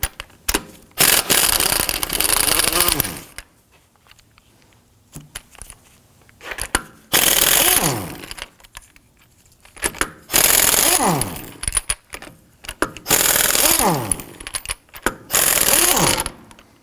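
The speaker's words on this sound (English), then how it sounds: "Using a 19mm thin wall socket, I'm going to go ahead, loosen and remove our lug nuts and our locking key." Loud bursts of a power tool driving a 19mm thin-wall socket to loosen and remove lug nuts and a locking key from a 2005-2009 Subaru Legacy front wheel, several close, whirring runs with short gaps between.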